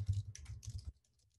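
Fingers type on a computer keyboard, a quick close run of soft key clicks for under a second before stopping into near silence, with no talking.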